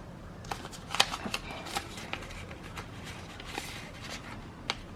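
Paper banknotes are folded by hand to fit budget envelopes, giving soft, close crinkling and crisp little snaps scattered irregularly over a quiet background.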